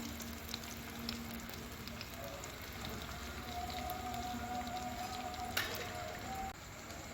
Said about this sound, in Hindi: मीडियम टू लो फ्लेम पे इसको जो है वो हम फ्राई करेंगे। ये तवे पे बहुत अच्छे से बनते हैं।